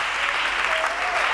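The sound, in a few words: congregation applauding in church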